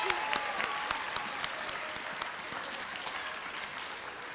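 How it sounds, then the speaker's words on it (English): Steady audience applause fills an elementary school promotion ceremony, many hands clapping at a moderate distance with a dense, even texture throughout. "if we could give one more round of applause for Miss Evans' homeroom."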